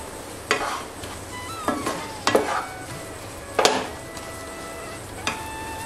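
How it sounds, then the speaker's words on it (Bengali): Khoa stirred into ghee in a pan over a low flame: scattered scraping strokes of a spoon against the pan over a soft, steady sizzle. Close, with no talk. "এবার ঘিয়ের সঙ্গে ক্ষীরটাকে ভালো করে মেশাতে হবে।"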